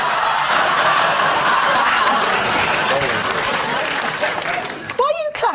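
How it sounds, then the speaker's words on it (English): A television studio audience at a BBC panel show bursts into loud, sustained clapping mixed with laughter, forming a thick wash of crowd noise that fades near the end as a voice cuts in. "Why are you clapping?"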